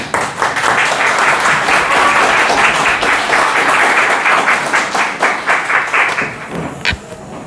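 A Korean church congregation at a Sunday service applauds a welcome with dense, loud, sustained clapping that thins into separate claps before ending.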